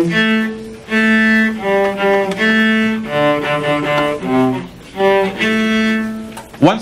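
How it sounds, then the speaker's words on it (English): A cello plays a slow run of sustained low bowed notes, clear and close, with short pauses between phrases. "The cello is even bigger. You play it sitting down. It sounds a little lower,"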